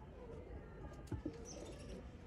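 Chapra breed pigeons coo faintly in a low, murmuring warble, with a couple of brief knocks partway through against a quiet background.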